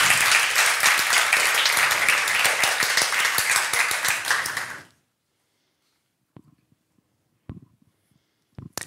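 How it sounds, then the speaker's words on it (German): Loud, dense applause from an audience at a youth hackathon presentation event in Germany, sustained for about five seconds and then cutting off sharply, followed by a few faint knocks and taps in the quiet. "Ein Applaus bitte."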